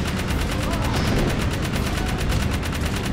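Turret gunfire in a video game: a loud, unbroken stream of rapid automatic shots, each burst following the last in a fast, even rhythm across the whole stretch.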